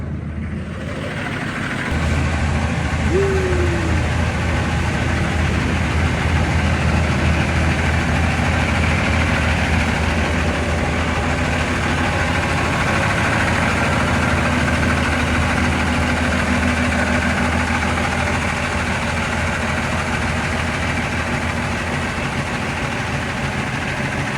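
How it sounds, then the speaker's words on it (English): A generator starts up and runs inside a truck cab with a steady, loud, low droning hum that holds unchanged for over twenty seconds, without any voices. "I'm gonna turn this generator on just in case it get a little chilly in here while I'm rolling"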